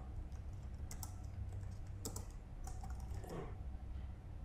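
Soft, quick keystrokes on a computer keyboard click in a short, uneven run, close and quiet with no voices.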